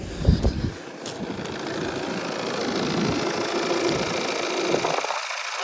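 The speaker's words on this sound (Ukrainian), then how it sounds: "Двигун працює рівненько." A Volvo V diesel car engine idles steadily with a low, even rumble and a faint rattle, continuous throughout with no talking.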